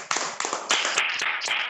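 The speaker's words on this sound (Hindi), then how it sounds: "शानदार तालियों के बीच" A crowd at an open plan team meeting claps together in a quick burst of dense, overlapping applause, close and lively, with no speech over it.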